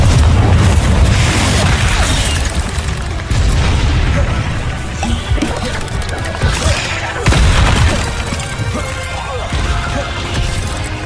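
Confringo spells in the Hogwarts Legacy video game blast out a series of heavy, booming explosions, several loud bursts spaced a few seconds apart over continuous rumbling battle noise.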